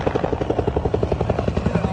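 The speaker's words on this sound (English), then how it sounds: "Mira, mira, mira el helicóptero." A helicopter thuds steadily with a rapid, even rotor chop and a constant engine whine, fairly close and loud throughout, at the scene of a private jet crash on a Florida highway.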